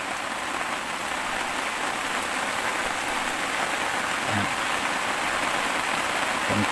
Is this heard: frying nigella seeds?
no